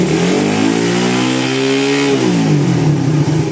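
A bore-up motorcycle engine during carburetor tuning revs loud and close, climbing in pitch, holding, then dropping back toward idle, with no talking.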